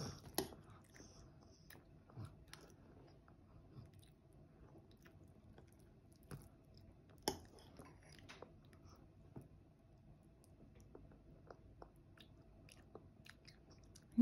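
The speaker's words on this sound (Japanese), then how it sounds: "よく噛んで、もぐもぐしてもぐもぐ。" A baby eating eggplant: soft, wet chewing and biting sounds repeat quietly against a low background hum, with occasional sharper clicks and a louder knock at the end.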